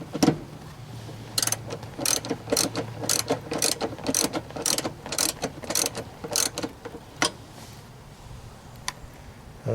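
A hand ratchet fitted with a wobble drive extension clicks in a series of sharp, close bursts of rapid ticking, repeated with short pauses during a GM/Chevy seat repair.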